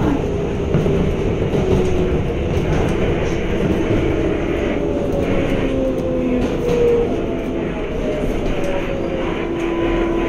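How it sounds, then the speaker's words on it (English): A Manhattan-bound New York subway 7 local train runs near Jackson Heights with a loud, steady rumble and clatter. Motor whines rise and fall over the noise. "This is a Manhattan-bound 7 local train."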